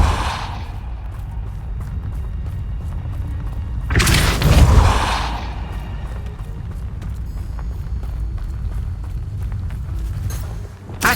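Depulso force spell effect in the Hogwarts Legacy video game, a sudden whooshing blast with a deep thump around the middle, set against a steady game ambience with scattered clatter and small impacts.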